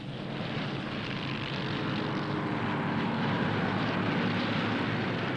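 Pontiac race cars at the 1961 Indianapolis 500 make a continuous, even engine roar heard from a distance, holding steady without pause for several seconds, with no talk over it.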